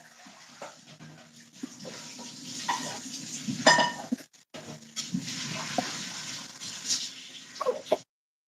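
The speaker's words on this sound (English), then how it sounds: "Trying to get some ice cold water poured on my eggs." Ice-cold water pours and splashes over eggs in a pot, running in bursts with short pauses between them, close and fairly loud, with no talking.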